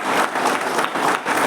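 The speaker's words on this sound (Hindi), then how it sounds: "जोर से तालियां हो जाए उनके लिए" Applause from an audience at a Mission IAS programme in Ranchi, Jharkhand, greeting an honoured guest: a steady, dense wash of many hands clapping at once, loud and sustained for the whole moment with no voices over it.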